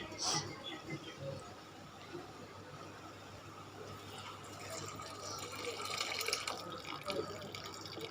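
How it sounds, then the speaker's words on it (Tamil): Lentil water pours steadily into a pot with a soft, continuous splashing rush and a few faint clinks, close by and without talking. "பருப்பு தண்ணி ஊற்றியாச்சு"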